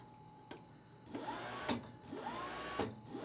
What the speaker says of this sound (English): Really nice motor, very quiet.